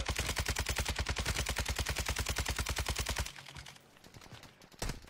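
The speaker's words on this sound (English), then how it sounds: "Another fucking airstrike, Jesus Christ." Rapid, loud automatic gunfire bursts in a video game during an airstrike, a dense rhythmic hammering for about three seconds that cuts off into quieter rumbling and a final sharp bang.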